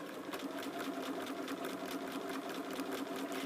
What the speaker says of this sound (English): Take a piece of scrap fabric, put it in your machine, lower the presser foot,